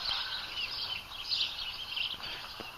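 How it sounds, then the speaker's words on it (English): Faint, high chirps and tweets of birds flutter continuously in the distance over a quiet background, with no voices, in a dry Nevada ghost town. "Hear those birds?"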